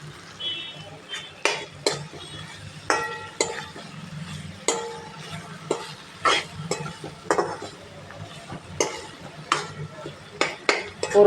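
Green chilli masala being fried and stirred in a pan, with repeated scraping and clinking of a spoon against the metal pan over a low continuous sizzle, close and fairly loud.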